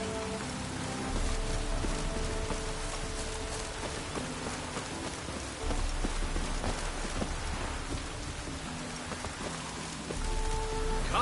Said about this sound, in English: Looked like it would rain, and here it is.